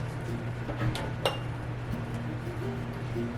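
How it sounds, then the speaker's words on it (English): Glass canning jars clink against each other and the metal of a water bath canner as they are lowered in, a few sharp, bright taps over a low steady hum. "now we're going to put them in the canner"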